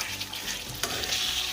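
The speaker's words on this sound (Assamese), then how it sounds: "এতিয়া আমি খুব ভালকৈ ভাজিম।" Partly cooked chicken curry with potatoes fries in a pan with a steady, close sizzle and the scrape of stirring, with no voices.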